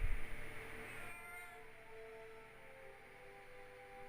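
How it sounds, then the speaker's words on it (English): A cat meows in the video game Skyrim, one drawn-out, faint wavering call over quiet background hum. "Why do I hear cat noises?"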